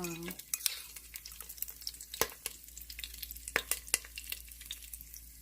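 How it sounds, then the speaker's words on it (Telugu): Crushed garlic hits a pot of pumpkin sambar and frying begins, with a soft crackling sizzle under sharp, irregular clinks and scrapes of a spoon against the pot. "కొంచెం దీంట్లో వేస్తున్నాను గార్లిక్, వెల్లుల్లి దంచి పెట్టుకున్నాం కదా అది వేసాను"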